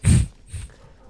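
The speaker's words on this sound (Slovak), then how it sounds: "To čo tam máš, psa?" A pet dog at home gives a short breathy whimper followed by a softer snort-like sound, close and fairly quiet, with no bark and no talk.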